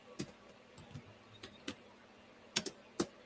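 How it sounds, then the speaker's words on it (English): Sparse keystrokes on a computer keyboard, a handful of separate clicks with uneven gaps and a quick cluster near the end, close and fairly quiet with no talking. "I started typing pretty in pink."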